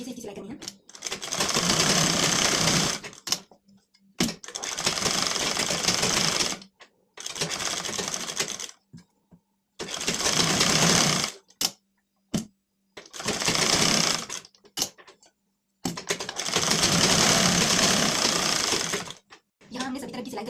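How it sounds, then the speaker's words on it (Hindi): An electric sewing machine stitches a lined blouse in repeated bursts of rapid, buzzing needle chatter, each lasting a couple of seconds, separated by short silent pauses as the fabric is turned. "सभी तरफ को बिल्कुल आपको बारीकी से इसकी सिलाई करनी है।"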